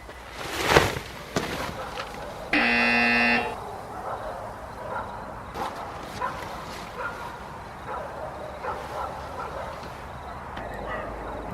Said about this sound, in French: Je crois que j'ai réveillé tous les chiens